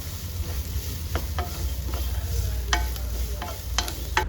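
Onion and green chili splutter and sizzle in a hot pan, steady frying hiss broken by sharp crackling pops at irregular intervals.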